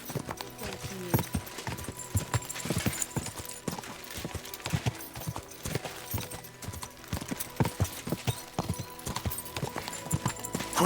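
Horse hooves gallop in a steady, close clip-clop rhythm across the ground in the video game Kingdom Come: Deliverance 2, continuing loudly throughout with faint game ambience underneath.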